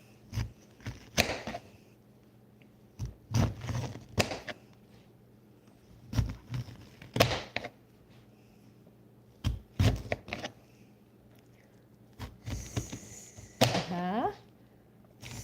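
A knife slices into a pomegranate along its ridges in several short, separate cutting bursts, with soft rustles and handling noises between the strokes.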